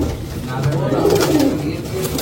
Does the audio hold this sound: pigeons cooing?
yes